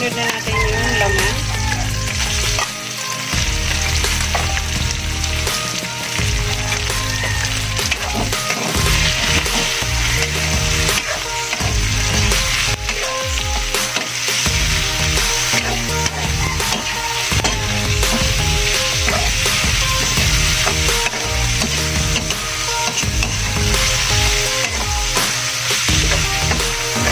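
Meat for Bicol Express frying loudly in oil in a pan, a dense continuous sizzle with repeated scraping and knocking of the stirring spoon, close and prominent throughout.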